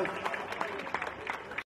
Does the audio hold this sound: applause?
yes